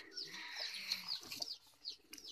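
Chickens clucking beside an egg nest at a highland farm in northwest Vietnam, a close string of short chirpy clucks and squawks in uneven bursts, fairly quiet, with no talking.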